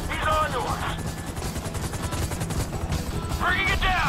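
Helicopter in a GTA 5 mission during a raid on a government bureau building, its rotor drone running steadily throughout under game music, with voices and in-game radio chatter over it.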